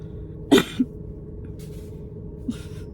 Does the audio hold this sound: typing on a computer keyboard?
no